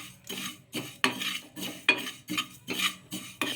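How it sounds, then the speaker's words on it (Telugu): Sesame seeds are stirred in a pan with a spoon, producing repeated scraping, rattling strokes about every half second, close and fairly quiet. "ఇలా నువ్వులు వేసుకొని వేయించేసుకుందాము. ఈ నువ్వులని కొంచెం వేయించేసుకుందాం."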